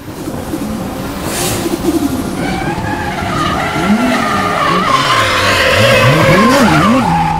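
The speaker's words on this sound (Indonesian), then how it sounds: "Mobil balap." A race car skids with loud, sustained tire squeal, the screech bending up and down in pitch over engine noise throughout.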